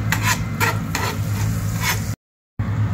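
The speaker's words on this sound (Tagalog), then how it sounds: "Pag natunaw na yung butter, lagay natin tong cumin seed." Cumin seeds fry over low heat in melted butter, giving a close, steady crackling sizzle with a few scraping stirs, then a brief dropout to silence before the sizzle resumes.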